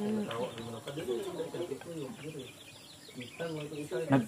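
A chicken clucking nearby in short, repeated bursts, with voices talking over and between the calls.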